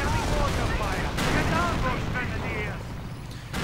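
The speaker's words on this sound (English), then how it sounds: "Anti-tank and firing away." Anti-tank gunfire in a World War II strategy game, booming shots and rumbling explosions layered with battlefield noise, loud and dense throughout, with a commentator talking over it.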